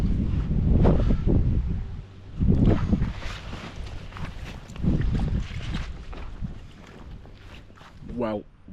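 Strong gusty wind buffets the microphone at a lakeside, loud, rumbling blasts rising and falling in waves throughout.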